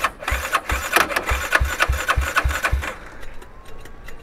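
A Honda Twister motorcycle engine with a 79mm big-bore kit sputters and chugs in uneven bursts, revving briefly several times before dying down into scattered clicks and rattles.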